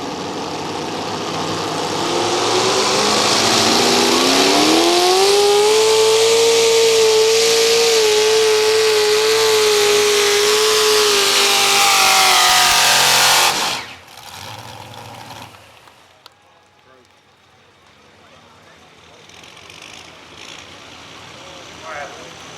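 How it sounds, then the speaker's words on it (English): A loud pulling tractor engine roars and revs hard at a truck and tractor pull, its pitch climbing and holding under strain, then cuts off abruptly, leaving quieter rumbling and distant murmur. "So Fred McKenzie's a test puller. He calls the tractor the Highland Special."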